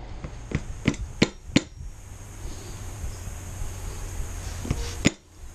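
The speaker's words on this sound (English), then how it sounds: "with the hammer I'll just try to hit it and put it inside" A hammer strikes a wooden stick to seat a fork oil seal on a Suzuki VanVan RV200 motorcycle, giving a quick series of sharp close taps, a pause, then two more hits.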